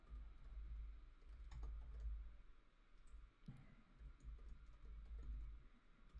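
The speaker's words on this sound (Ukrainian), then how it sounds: "Не влучаю по клавіатурі." Fast typing on a computer keyboard, steady runs of soft clicks over a low hum, heard alone with no talk.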